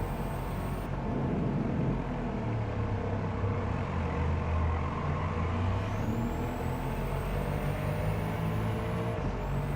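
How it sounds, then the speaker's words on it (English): A Mercedes-AMG C63 S engine in the Gran Turismo 7 racing game hums along steadily as a low, continuous drone, sounding fairly tame and muted with no other sound over it. "During the time trial, the engine sounded really tame."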